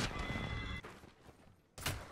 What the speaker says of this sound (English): Oh, somebody shooting behind me.